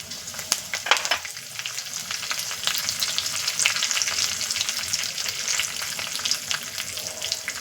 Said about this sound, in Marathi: आता कढीपत्ता, सगळ्यात महत्वाचा घटक फोडणीमधला.